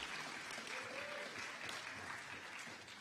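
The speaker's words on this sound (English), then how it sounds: "that person who started off by cheering was Kathleen Connor" Steady audience applause fills a county State of the County gathering, with a brief single cheer rising early on, continuous and fairly close throughout.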